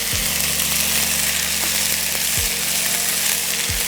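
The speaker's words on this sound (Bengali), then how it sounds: "এই যে আদা রসুনটা দেওয়ার সঙ্গে সঙ্গে তেলের উপরে এই যে ছিটছে" Ginger garlic paste spattering in hot oil while cooking chicken, giving a steady loud sizzle with crackling all through and a few low scraping stirs near the start, middle and end.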